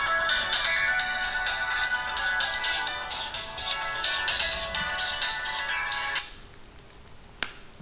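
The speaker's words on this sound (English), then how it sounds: "that was my cell phone, sorry" A cell phone ringtone rings at night, a bright repeating electronic melody that is loud and close, then cuts off abruptly near the end, followed by a single sharp click.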